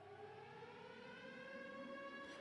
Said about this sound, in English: Sirens start blaring at the Sarkis camp the moment the patrol goes down.